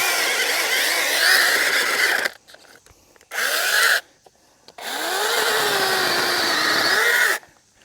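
A Sainlogic 6-inch mini chainsaw cuts through wood in loud, close bursts: a long run, a short pause, a brief burst, then another sustained cut with the engine whine shifting under load, with no talking.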